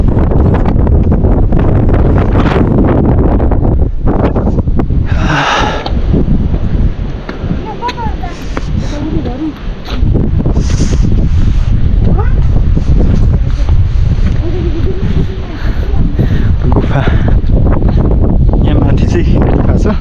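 Strong wind blasts across a crowded hilltop ridge, roaring and buffeting the microphone almost without pause for the whole stretch, with brief lulls and a voice now and then beneath the gusts.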